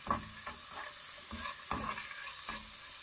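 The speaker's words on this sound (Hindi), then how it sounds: "चिकन को भी हम फ्राई करेंगे।" Chicken fries in a pan for jalfrezi, a soft, steady sizzle broken by rhythmic scrapes as it is stirred about every half second.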